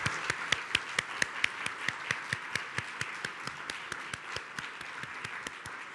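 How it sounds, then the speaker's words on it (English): A round of applause from an audience at a university conversation event with Ohio State's president, steady clapping over several seconds with sharp individual claps standing out, holding fairly even and easing slightly toward the end. "Let's give everyone a round of applause."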